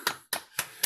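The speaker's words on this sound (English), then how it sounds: "just give Chris one of those claps" Four sharp hand claps sound in a steady rhythm, faint and close, each a short crisp burst with silence between.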